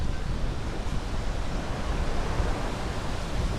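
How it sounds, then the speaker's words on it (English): Strong, steady wind roaring outdoors, a continuous broad rushing noise buffeting the microphone with no voices. "that wind out there is something fierce"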